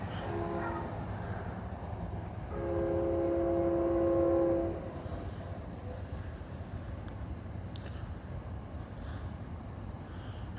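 Union Pacific locomotive 6954 pulls an outbound manifest freight train toward the Warner Road crossing, sounding a distant sustained horn blast of about two seconds over a low, continuous rumble of the approaching train.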